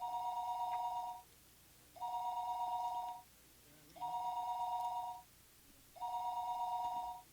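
Telephone ringing tone in the video game Higurashi When They Cry: Watanagashi, four evenly spaced electronic rings of about a second each separated by short silences, clear and unaccompanied.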